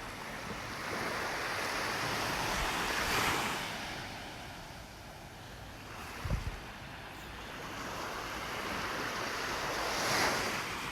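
Steady wash of Gulf surf rolling in at Vanderbilt Beach, North Naples, Florida, with wind buffeting the microphone and swells of breaking waves near three and ten seconds; no voices.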